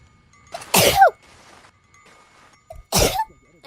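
Two loud, explosive sneezes from a young woman close to a headset mic, separated by about two seconds of near silence.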